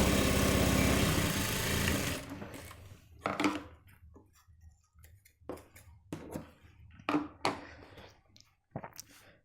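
A sewing machine stitches the back pocket of a men's pant, first in a loud continuous whir, then in short separate bursts with quiet gaps while the fabric is repositioned.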